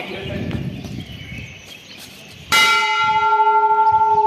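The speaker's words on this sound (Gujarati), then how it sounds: "આ દેખી શકો છો આવડો મોટો ઘંટ" A large temple bell, near the India–Pakistan border at Nadabet, is struck once partway through, its bright metallic tone ringing out loud and sustained with slowly fading overtones after a stretch of background murmur and chatter.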